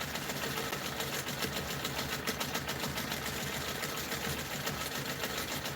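A sewing machine runs steadily while free-motion stitching a pebble background fill in a quilt, its rapid needle chatter even and continuous, fairly soft and close.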